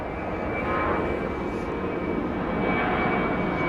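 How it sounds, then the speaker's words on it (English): A Korean Air jet airliner roars steadily at Heathrow Airport, a loud, continuous engine rumble with a whining high tone, heard alone without talk. "Very loud, that Korean air is."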